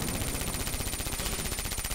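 A very fast-firing gun in a video game shooter unleashes a dense, unbroken stream of rapid shots that fills the whole stretch at steady loudness.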